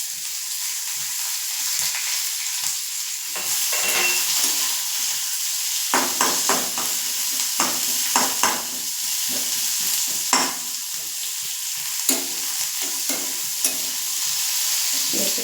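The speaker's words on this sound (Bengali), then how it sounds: "পেঁয়াজটাকে নাড়াচাড়া করে নরম করে নিই।" Chopped onions softening in hot oil after a tempering of spices, a steady bright sizzle with repeated utensil scrapes and taps against the pan, close and continuous, no talk.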